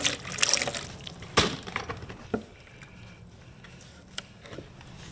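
Soap cleaner is poured out for mounting 38x12.50R17 Nitto Ridge Grappler tires on a Jeep wheel. A brief, close liquid splash and glug sounds at the start, then it fades to quiet room noise.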